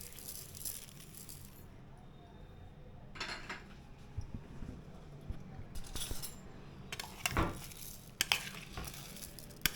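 Mango pickle being stirred in a bowl with sugar and vinegar gives intermittent metallic rattles and clinks of a spoon against the dish, with quiet gaps between bursts and a few sharper knocks near the end.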